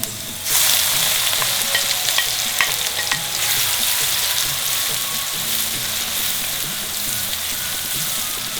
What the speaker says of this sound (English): Now fry the onions till the onions are nice and golden color.